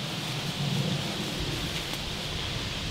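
Steady rain falls across the trees of the Ebersberg Golf Club in Bavaria, a dense, even hiss that fills the whole stretch with a soft low rumble beneath, and no voices.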